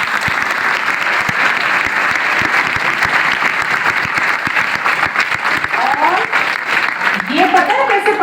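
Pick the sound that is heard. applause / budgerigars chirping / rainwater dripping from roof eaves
applause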